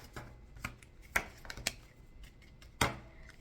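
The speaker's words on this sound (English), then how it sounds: "I'm going to go ahead and shuffle these decks" Tarot cards are shuffled and tapped in short, crisp bursts, a few sharp riffles and knocks spaced apart, close by with no talking.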